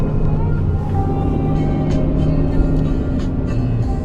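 A big Dodge Dually pickup truck climbs the US 82 mountain pass toward Cloudcroft, its engine a steady droning rumble heard from inside the cab, unbroken for the whole stretch.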